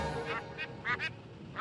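Ducks in the video game The Simpsons: Hit & Run, a few short nasal quacks in quick succession, close and fairly loud against a soft background.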